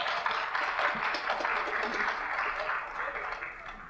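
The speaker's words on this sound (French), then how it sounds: "On peut l'applaudir." Audience applause at a school gathering for students, a dense, steady wash of many hands clapping fairly close, sustained for several seconds with a slight fade toward the end.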